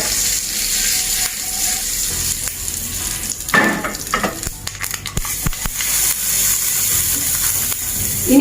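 Mustard seeds, urad dal and curry leaves frying in hot oil for a Sri Lankan onion chutney, a steady close sizzle with sharper crackles and pops mid-way as the leaves go in.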